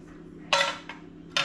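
A metal frying pan clanks down onto a Fire-Maple Polaris camping stove nearby, followed by a lighter tap and another clank, with a faint hum underneath.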